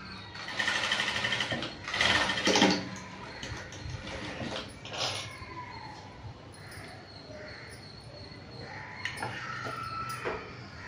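Sewing machine stitches the shoulder joint of a princess-cut blouse, its motor whirring in close bursts that start and stop several times, with faint voices and handling noise between runs.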